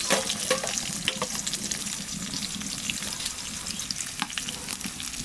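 Small fish fry in hot oil in a pan, a soft continuous crackling sizzle with occasional spits and stirring clicks, fairly faint and steady throughout with no talk.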